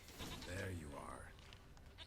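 In the Witcher 3 video game, a goat gives one drawn-out wavering bleat close by, over faint background ambience.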